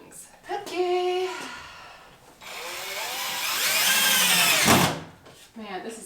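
Power drill driving drywall screws while hanging panels in a basement bathroom renovation, close whining bursts that ramp up in pitch and cut off sharply, one short run then a longer sustained one, with brief speech nearby.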